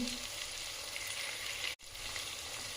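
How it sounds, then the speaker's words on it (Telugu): Onions and green chilli slivers fry steadily in a pan for tomato rice, a dense, even sizzle that runs throughout with a single sharp cutout near the end. "వీటన్నింటినీ దోరగా ఫ్రై చేసుకోవాలి"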